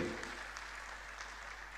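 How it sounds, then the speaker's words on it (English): An audience applauds at a University of Lagos convocation lecture, a brief, faint spread of clapping heard from a distance in a large hall. "Another round of applause for him."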